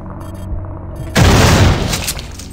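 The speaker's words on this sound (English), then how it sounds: "So we're going to have to shotgun them." A loud, close shotgun blast at eggs in System Shock 2 erupts after a quiet stretch, a single heavy boom with a rumbling tail that slowly fades.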